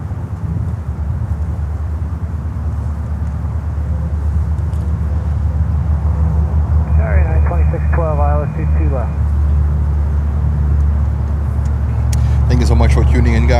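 An airliner touches down on runway 22 Left at Newark Liberty airport, a loud continuous roar of engine and wind noise throughout, with a radio voice briefly heard over it.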